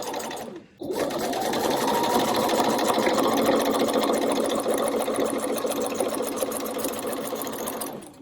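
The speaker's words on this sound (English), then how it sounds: "I've got my walking foot on and I'm just doing a stitch along the top here." A sewing machine fitted with a walking foot stitches denim-weight fabric with quilter's thread for a pouch, producing a steady, close, rapid mechanical whirr with fine rhythmic ticking that starts after a brief pause and runs continuously.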